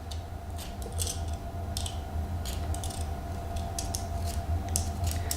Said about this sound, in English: The ginger, you need to peel it a little bit.